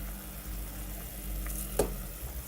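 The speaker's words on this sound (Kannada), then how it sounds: "ಸೊ ಗೈಸ್, ಈಗ ಅಕ್ಕಿ ಹಾಕ್ತಾ ಇದ್ದೀನಿ" Rice pours into a pot of boiling water on a home stove, giving a brief sizzling, bubbling rush over a steady low boil, close and fairly quiet.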